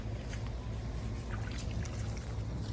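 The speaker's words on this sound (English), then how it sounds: "There is a stream that runs through here from overflow." Overflow water runs in a stream on grazing pasture. The stream gives a steady, close gurgle and trickle with a low rushing undertone, and no voices are heard.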